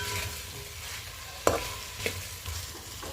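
A spoon scrapes and stirs vegetable pulao in a sizzling pan, with a few sharp clanks against the metal over a steady frying hiss.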